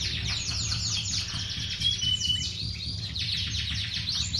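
Pet birds sing and chirp nonstop in a steady chorus of overlapping high tweets and trills, close and fairly loud, over a low background hum, with no talk.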